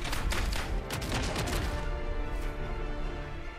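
Dense, loud rapid gunfire and crashing blasts from a Helldivers 2 battle that slowly thin out, with a voice briefly heard in the mix.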